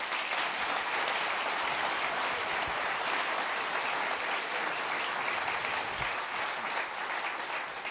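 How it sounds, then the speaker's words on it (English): A forum audience applauding its panellists: dense, sustained clapping at an even level for several seconds, with no voices standing out. "Can I have a round of applause for our panellists,"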